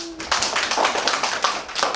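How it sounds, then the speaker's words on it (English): Grade 1 children in a classroom clap for a classmate, a burst of many small hands clapping loosely and unevenly up close for about two seconds, beginning just after a brief tone. "Wow, grade 1s, can we clap for her?"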